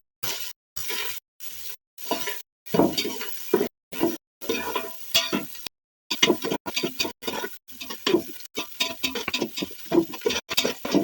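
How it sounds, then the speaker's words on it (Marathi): A spoon stirs chopped onion frying in a pan, giving bursts of scraping and sizzling separated by short silent gaps, close and moderately loud, with no talking. "कांदो ढवळून घेतला."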